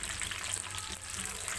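About one and a half teaspoons of cumin seeds crackle in hot oil for a Punjabi dal tadka, a close, steady sizzle with fine spitting pops and no voices.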